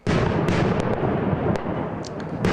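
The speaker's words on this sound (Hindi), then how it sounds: "दिवाली का धमाका।" A loud, dense roaring blast of Diwali firecrackers exploding nearby fills the whole clip, with sharp crackling pops over the top.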